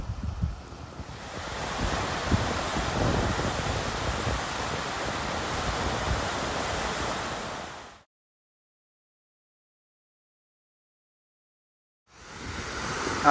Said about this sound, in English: Another big waterfall here.